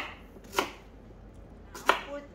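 A knife chops through pineapple on a board in two separate, crisp strokes, close and fairly quiet, with near silence between them.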